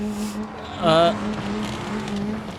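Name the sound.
car spinning out and tires skidding in BeamNG Drive video game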